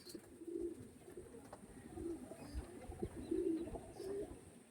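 Andhra Kalanka pigeons coo softly at a distance, low murmuring coos rising and falling in a few gentle bursts over quiet room noise.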